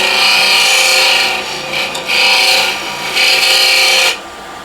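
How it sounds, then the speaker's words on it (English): A pulled burr scraper rasps across punky hornbeam timber in three long, steady scraping strokes with brief pauses between them, close and loud. "Now we'll see how this pulled burr will react on Punky timber"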